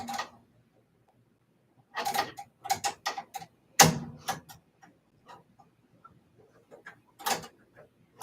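An embroidery hoop being locked into a Ricoma MT 1501 embroidery machine, a few sharp plastic clicks and clacks with one louder snap midway, close and alone in a quiet room.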